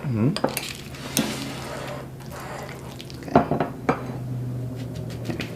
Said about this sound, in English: We are going to scoop this onto the bread.